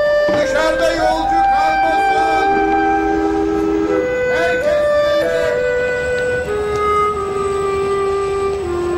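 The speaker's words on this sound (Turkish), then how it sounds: "Tren kalkıyor. Tren kalkıyor. Herkes trene." A train at a station in an old Turkish drama setting, its horn or whistle sounding in long sustained pitched tones that rise and shift over a steady rumbling background, loud and continuous, with a crowd bustling faintly underneath.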